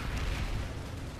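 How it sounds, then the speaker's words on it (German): A Mixer bomb detonates in Planetside 2 combat, a loud, dense explosive roar with heavy low-end rumble filling the whole moment without a break. "die scheiß Mixer-Bombe hat der Mensch"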